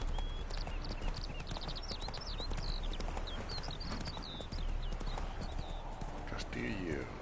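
Geralt's horse Roach galloping in The Witcher game, steady rhythmic hoofbeats under constant background ambience with birdsong chirps and a voice speaking over it.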